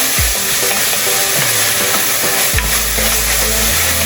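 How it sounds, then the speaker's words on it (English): Onion and garlic cook in a pan with a loud, continuous close-up sizzle, and low scraping sounds of stirring come through in places. "this is the onion and the garlic. So we let them cook for 2 more minutes"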